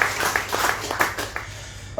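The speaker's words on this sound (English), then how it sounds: "can we just give our volunteers, if you don't mind, a round of applause as well?" A short burst of audience applause for volunteers at a Cairns mayoral candidates forum, a close, dense patter of clapping with some distinct claps, trailing off after about two seconds.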